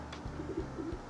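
Racing pigeons coo softly in a loft, a few low throaty coos over a quiet background.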